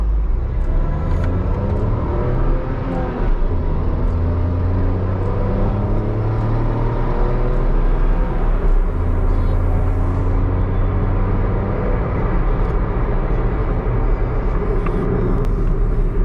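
A Tata Tiago XZA hatchback with an AMT gearbox drives in city mode, its engine giving a steady, close cabin drone and low road rumble throughout, with no talking.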